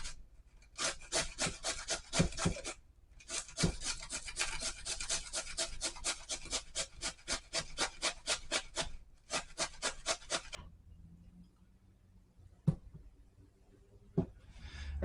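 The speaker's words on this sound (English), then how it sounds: "you go ahead and you grate your potatoes." Potatoes scraped firmly against a grater in fast, steady back-and-forth rasping strokes, close and loud, with a short pause near the start and a few isolated knocks after the grating stops.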